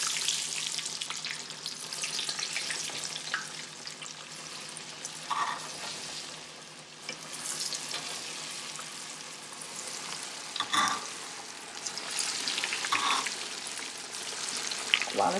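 Steady crackling sizzle of meat frying in a pan, with occasional louder pops and spatters and little talk.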